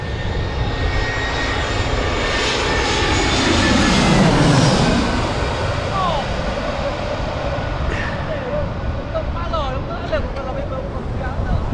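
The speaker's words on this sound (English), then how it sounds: "I'm going to be quiet here in a second so you can hear the full jet engines coming in." Jet airliner engines on approach to Phuket International Airport, heard from Hat Mai Yang Beach: a loud, broad roar swells to a peak mid-way, then eases into a steady rumbling drone as the aircraft passes.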